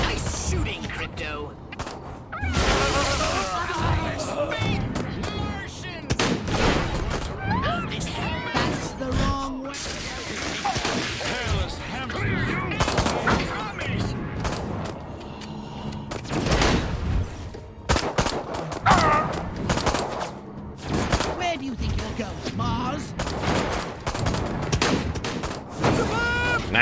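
Rapid bursts of alien gunfire and crashing impacts in a Destroy All Humans! game battle, dense and loud, with character voices talking over the shooting.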